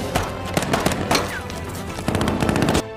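Battle gunfire from the war film 12 Strong, with soldiers under enemy fire: rapid machine-gun bursts and sharp cracks in quick clusters, loud and close, with brief gaps between volleys.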